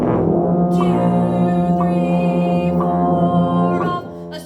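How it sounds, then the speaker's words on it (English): A school band's horn section sustains a single whole note on F, a steady loud brass-like tone held for about four beats before cutting off near the end. "we're going to play one whole note all the way to beat 1 on an F"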